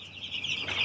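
Young chicks in a brooder on a commercial chicken farm peep in a steady high-pitched chorus, close and continuous, rising slightly toward the end with no talking.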